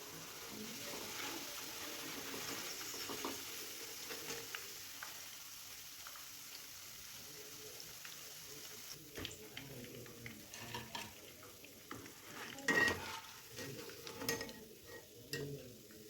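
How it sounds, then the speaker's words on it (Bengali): Cauliflower pieces frying in oil in a frying pan make a faint, steady sizzle, with scattered ticks and scraping clinks from stirring growing more frequent toward the end. "দেখুন আমার ফুলকপির টুকরোগুলো খুব সুন্দরভাবে ভাজা ভাজা হয়ে এসেছে।"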